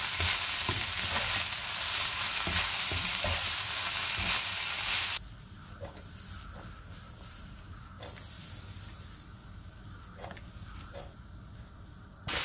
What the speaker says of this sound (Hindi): इसको हिलाते हुए बस हल्का सा जो है ना ये सब्जियों को फ्राई कर लेंगे।